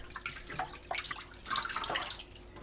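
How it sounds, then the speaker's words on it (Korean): Water runs and splashes unevenly over shrimp being rinsed in a sink, with bursts of sloshing and dripping, close by, no talking. "새우를 헹궈냅니다."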